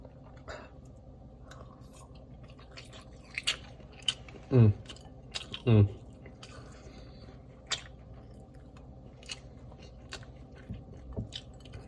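Crunchy, charred ramen noodles are chewed close to the mic in a quiet setting. Two sharp, loud bites stand out among soft chewing and squishing sounds.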